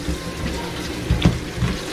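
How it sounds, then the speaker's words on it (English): Green beans rinsed under a running kitchen tap, a steady close water hiss with a few brief louder splashes, with no talking. "Just wanted to give it a quick wash."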